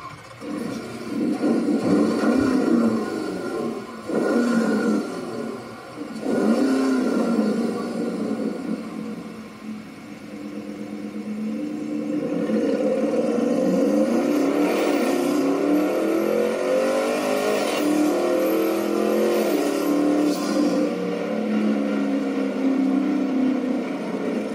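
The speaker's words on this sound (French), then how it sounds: "le moment où on va écouter la sonorité du moteur Turbo GT" Porsche Cayenne Turbo GT engine revving and accelerating, a loud sustained roar that climbs in pitch through several rising sweeps, with no talk over it.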